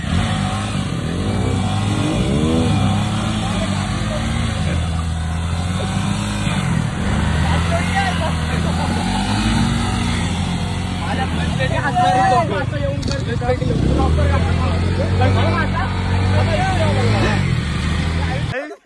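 An off-road motorcycle ride on the way to Kodba waterfall, with a steady engine drone that rises and falls with the throttle throughout. People talk over it almost the whole time.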